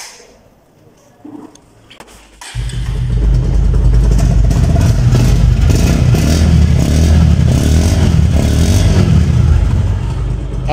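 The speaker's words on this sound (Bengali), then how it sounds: "আমি বাইকটি আপনাদেরকে সাউন্ডটা শোনাবো।" A Bajaj Pulsar motorcycle in fresh, low-mileage condition starts after a few quiet seconds, then idles and revs with a loud, steady engine roar close by.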